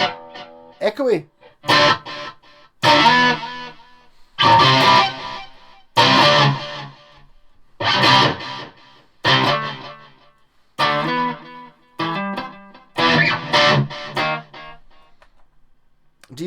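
Guitar run through a Zoom 606 multi-effects pedal on echo patch C6, likely an acoustic 12-string: repeated strummed chords with a trailing echo, fairly loud, in bursts with short gaps, no talk.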